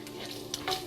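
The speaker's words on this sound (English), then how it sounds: "I'm going to finish cooking the bacon" Bacon frying in a pan while being cooked to a brown color, a steady close sizzle with a couple of brief stirring scrapes from a spoon, no voices.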